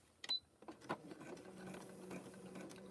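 A Baby Lock sewing machine stitches a rope coaster in short close bursts of mechanical clatter, then runs on in a steady whir with no talking.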